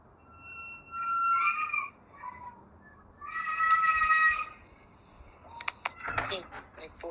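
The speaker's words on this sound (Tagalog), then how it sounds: "may pusa." A cat lets out two drawn-out meows a couple of seconds apart, close and clear, followed by some light clattering knocks.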